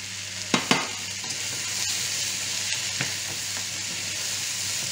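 Carrots sizzle and fry in a pan as a venison sauce is made, a steady close hiss broken by a few sharp clinks and scrapes of stirring near the start.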